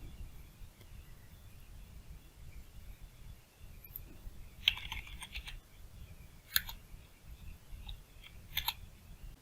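Soft keystrokes click in scattered short bursts on a computer keyboard, quiet and close, over a low background hum with no talking.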